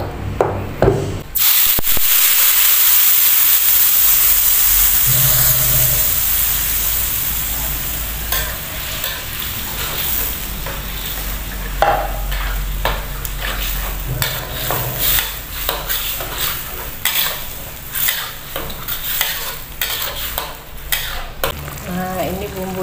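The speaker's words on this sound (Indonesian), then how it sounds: "Ini kita tumis dulu." Blended spice paste sizzling and being stirred in a frying pan for a beef rib gulai, a steady loud fry with scraping spatula strokes that settles into a softer, continuous sizzle.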